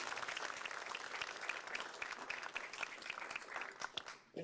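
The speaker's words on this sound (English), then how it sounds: "if we could give a round of applause to BGE for hosting this" A round of applause from the audience at a supplier diversity hearing, steady and fairly distant, a soft continuous patter of many hands that tapers off near the end.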